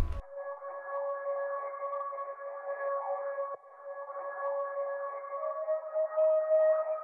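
An eerie synth lead holds one sustained, slightly wavering tone with hollow overtones, quiet and alone, shifting pitch a little near the end.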